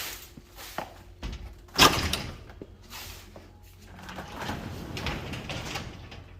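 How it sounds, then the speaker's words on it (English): Door being cracked open a little to let more light into an inflatable golf simulator enclosure, with a few clunks and a brief sliding rasp up close, then soft rustling and handling noises. "Let me crack this door a little bit so we can get some more light in here"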